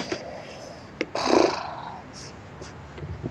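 A house cat purring close by in a room with a computer, a short soft rumbling burst in the middle over faint background noise.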